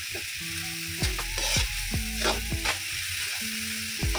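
Tomatoes with a little fish sauce stirred in a hot frying pan, a steady sizzle under repeated scraping strokes of a spoon against the pan, close and moderately loud.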